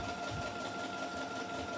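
A sewing machine stitches ruffle trim onto a sock anklet, running in a steady continuous whir with a faint mechanical hum, close and alone without any talk.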